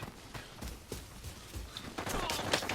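Rapid bursts of gunfire crackle through a busy Arena Breakout game soundscape, with shots clustering more densely toward the end.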